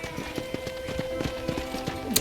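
Horse hooves clip-clop at a steady walking rhythm on a ranch in the video game Red Dead Redemption, about a dozen even, fairly close footfalls under a faint background hum.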